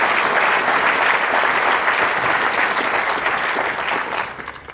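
Loud, steady applause from a large audience at a county state-of-the-county address, a thick wash of clapping holding for several seconds before tapering off at the end.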